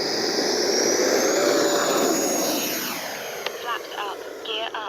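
An E-flite Viper 90mm electric ducted-fan RC jet takes off, its loud high whine rising in pitch, then fading as it climbs away, with a person talking near the end.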